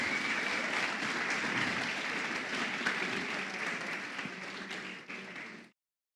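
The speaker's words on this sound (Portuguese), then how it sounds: "Gente, aplaudo o Senhor pela vida dos nossos atores." Worshippers in a church service break into sustained applause, a thick crowd-wide clapping that holds at a moderate level before tapering and cutting off abruptly near the end.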